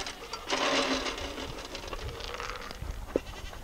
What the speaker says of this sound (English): by this point the goats are shouting at me